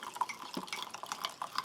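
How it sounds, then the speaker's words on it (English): Hot water trickles and drips into a Norwegian army arctic field ration pouch of pulled pork, a close, busy patter of splashes with no talking. "So let's get that half a mug of hot water there."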